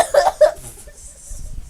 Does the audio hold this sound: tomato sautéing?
no